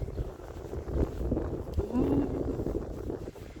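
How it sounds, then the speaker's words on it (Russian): Steady, cold spring wind buffets the microphone with a low, rumbling roar throughout, with faint outdoor background noise. "Но ветер. Вау. Какой холодный."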